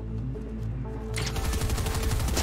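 Rapid gunfire from a pistol in the Fortnite video game, a quick volley of sharp repeated shots that breaks out over a low droning background and keeps going to the end.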